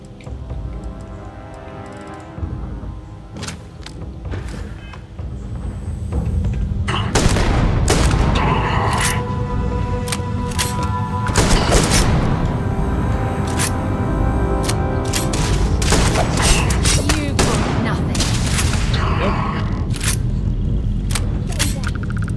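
Shotgun fire in the video game Starfield, loud booming blasts repeated through a dense, chaotic stretch of combat with steady background game noise and scattered sharp transients.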